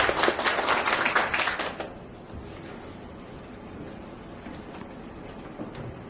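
An audience at an urban architecture forum gives a professor a short burst of applause that stops abruptly after about two seconds, followed by quiet room tone with a few stray claps.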